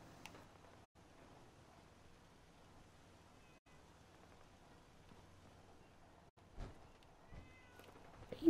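Cats meowing in a video game, faint and distant at first over a quiet, crackly ambient bed with brief dropouts, then a couple of clearer, louder meows near the end.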